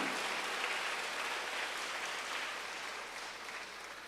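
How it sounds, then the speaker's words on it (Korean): Congregation at a Korean church sermon applauding together, a dense even wash of many hands clapping at moderate distance, gradually fading slightly toward the end with no speech. "박수로 하나님께 영광을 돌려야 된다"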